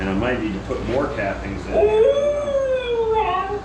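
A dog lying nearby howls and whimpers in a rising, drawn-out whine beside a cider press being cranked down, while someone talks over the start.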